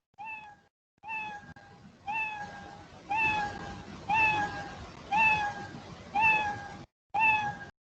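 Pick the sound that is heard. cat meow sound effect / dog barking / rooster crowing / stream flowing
cat meow sound effect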